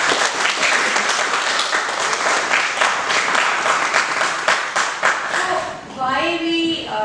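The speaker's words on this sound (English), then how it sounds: "So big round of applause for that." A seminar audience applauds steadily and loudly for several seconds, dense clapping filling the room before it fades and a voice begins speaking at the end.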